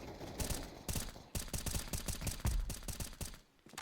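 Rapid bursts of gunfire in a Counter-Strike 2 match, sharp close shots firing in quick clusters with brief gaps, loud throughout and fading at the end.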